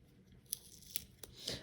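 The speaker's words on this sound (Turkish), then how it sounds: "şu bantı biraz daha kaydırabiliriz." A few short, sharp ripping bursts sound close by as sticky tape peels away in quick tugs from an HP printer ink cartridge.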